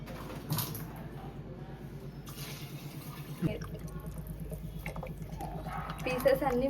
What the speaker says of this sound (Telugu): పీసెస్ అన్నీ మునిగే వరకు ఇలా మనమైతే వాటర్ పోసుకోవాలి